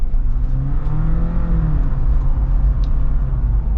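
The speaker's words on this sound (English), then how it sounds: "Here's our last acceleration from a stop." A 2021 Jeep Wrangler 4xe plug-in hybrid pulls away from a stop, starting in electric mode before the engine joins. A steady, close engine rumble builds with a rising tone, heard alone without talk.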